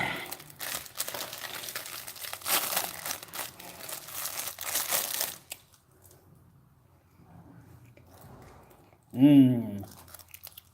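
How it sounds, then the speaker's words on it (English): Crinkly wrapper being torn and crumpled open on a Moon Pie, dense rustling for several seconds, followed by quieter chewing and a short voiced murmur near the end. "And now for lunch, I'm gonna have a moon pie."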